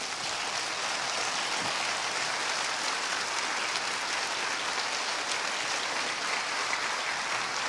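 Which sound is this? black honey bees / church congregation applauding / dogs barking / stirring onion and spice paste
church congregation applauding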